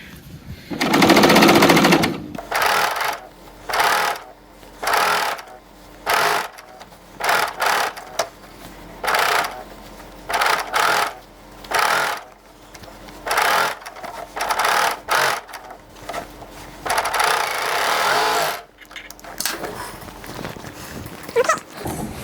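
A sewing machine finishes the seams on a sleeve of heavily fraying fabric and cuts away the excess seam allowance, running in a series of short, loud bursts of rapid stitching separated by brief pauses.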